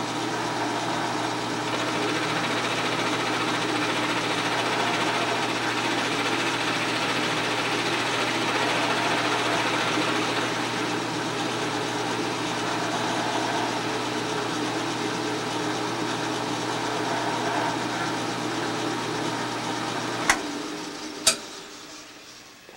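Lathe or mill machining the valve chest boss of an 1880s steam engine model, a steady mechanical hum and whir running continuously, ending with a couple of sharp clicks as the cut finishes.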